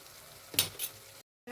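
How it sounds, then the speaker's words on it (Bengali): Chhena being sautéed with sugar and a little water in a pan, a soft frying hiss broken by two quick spatula scrapes, then a brief cut to silence before the sizzle resumes. "আমি এটাকে কষতে আছি।"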